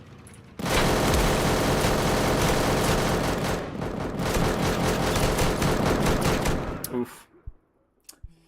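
Automated turrets in the survival game Deadside fire a loud, unbroken burst lasting about six seconds, then cut off sharply, and a short voice exclamation follows.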